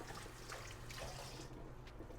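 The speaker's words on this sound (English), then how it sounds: "Rinse our knife." Tap water running over a kitchen knife during a rinse at the sink, a soft steady splashing stream, faint and close.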